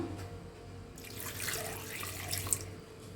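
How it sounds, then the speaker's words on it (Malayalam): Water pours from a tap into a mixer jar holding a cracked egg for egg sirkka batter, a steady close trickle and splash that swells midway with a brief louder splash near the end. "എന്നിട്ട് കുറച്ച് വെള്ളം ഒഴിച്ചു കൊടുക്കാം."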